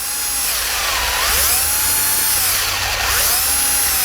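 A power drill with an 11/32 inch bit whines continuously, its pitch rising and falling in repeated sweeps as it bores a 2.5 inch tap hole into a maple tree, loud and close.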